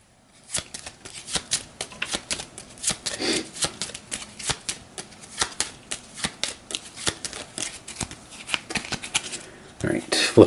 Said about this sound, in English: Now we can shuffle these up.